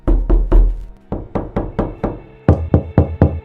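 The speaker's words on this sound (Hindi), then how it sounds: "तभी दस्तक और तेज हो गई।" Loud knocking on a door, used as a horror-story sound effect. Three quick heavy bangs are followed by repeated series of hard, close knocks that grow more insistent, with short gaps between bursts.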